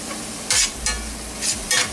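Dry ground spices, including salt, black pepper and cumin, toast in a hot pan on medium heat, with a low sizzle and several brisk scraping stirs close by.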